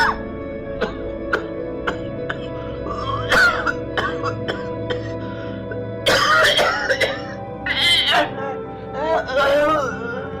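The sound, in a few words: man coughing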